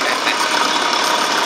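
A homemade table circular saw runs steadily, its motor clogged with sawdust, giving a continuous loud whirring drone for the whole brief stretch with no cuts or pauses evident.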